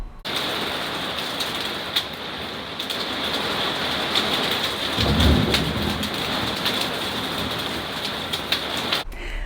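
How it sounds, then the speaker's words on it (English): Steady heavy summer rain pours down with a deep rumble of thunder rolling in midway, loud and continuous with no voices. "We had a really big summer storm"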